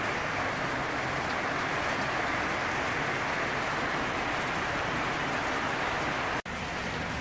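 Steady rain falling outdoors by a biofloc tilapia pond, a dense, even hiss that fills the whole stretch without letup, moderately loud, with no voices.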